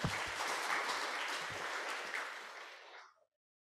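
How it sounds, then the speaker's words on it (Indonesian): Applause from an audience at a 2022 tax volunteer inauguration ceremony in Indonesia, a dense burst of clapping that holds steady for about three seconds and then tapers off and stops. "Tepuk tangan untuk kita semua."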